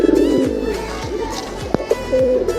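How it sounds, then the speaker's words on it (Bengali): Pigeons coo in a home pigeon loft, a pair among the flock, giving repeated soft low throaty coos in a steady rolling rhythm close by, with a few sharper clicks and flutters mixed in and no talk. "আরেক পেয়ার কবুতর"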